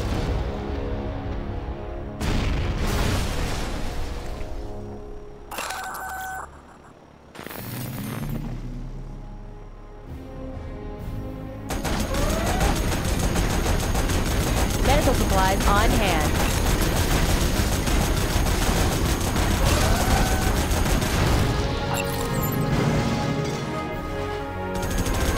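Battleship artillery bombardment in the video game Command & Conquer Generals, with dense, loud rolling gunfire and booming blasts that pause briefly near the middle, then return as a sustained heavy barrage.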